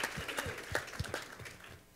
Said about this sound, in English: give her a round of applause because she's amazing